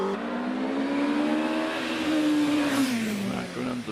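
A 1994 Dallara F3 single-seater race car climbs the Prescott hillclimb course, its high-revving engine screaming loud and close as it accelerates, pitch rising and dipping through gear changes.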